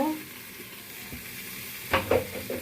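Carrots and potatoes for khichuri tipped into a hot pan, a brief loud sizzle bursting up near the end after faint background kitchen noise.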